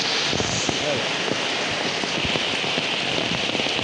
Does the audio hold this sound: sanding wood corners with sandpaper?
no